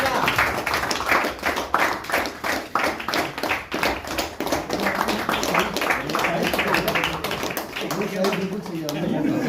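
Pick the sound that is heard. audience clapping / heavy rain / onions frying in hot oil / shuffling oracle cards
audience clapping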